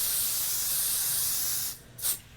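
Spray adhesive hisses in a steady, close, continuous burst onto quilt fabric, then cuts off, followed by one short final spritz.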